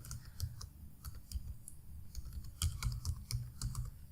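Quick, uneven keystrokes clatter on a computer keyboard as a command is typed, a close run of sharp clicks with brief pauses and no voices.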